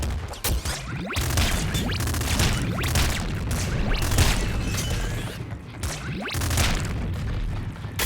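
Repeated booms and crashing blasts from explosives in the video game Nuclear Throne, loud and dense, with several sharp hits spaced across the stretch and no voice over them.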